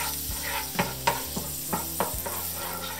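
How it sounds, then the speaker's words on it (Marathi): Butter or ghee spread across a hot iron tawa for dosa, giving a steady soft sizzle with a few light scraping taps of a spatula, close and alone with no talk. "एकदा पसरून घ्यायचं सगळ्या तव्यावर."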